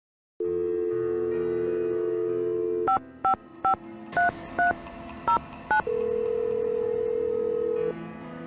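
A phone in a ticket booth in the Nancy Drew video game plays a dial tone, then a quick run of eight touch-tone beeps in a brisk rhythm, followed by a steady ringing tone, clear and close with no voices.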